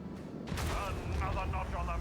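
A macro cannon fires in the Rogue Trader video game, a sudden heavy boom that rolls into a sustained rumbling barrage with a voice talking over it.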